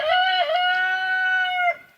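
A rooster crows once, loud and close, a single drawn-out cock-a-doodle-doo lasting about two seconds with no other sounds around it.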